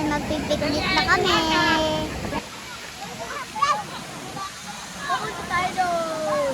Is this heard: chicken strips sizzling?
no